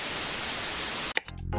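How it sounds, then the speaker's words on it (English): A white noise layer sitting under a kick drum in an FL Studio session gives a loud, steady broadband hiss for about a second, then cuts off abruptly into quieter, sparser low-end sound. "Right under it, we have a white noise."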